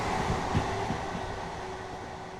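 Train rumbling along the tracks in Train Sim World 3, a low steady running rumble with a few soft thumps early on and a faint tonal hum.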